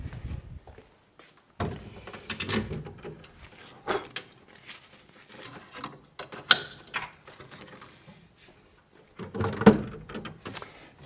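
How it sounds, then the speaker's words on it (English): A Plek Station fret-machining unit has its door slid open and a calibration guitar set inside, giving a run of mechanical clunks, latch clicks and sliding thumps in bursts spaced through the stretch, close by and moderately loud, with no talking. "now we open the door, and now we insert the guitar, our calibration guitar."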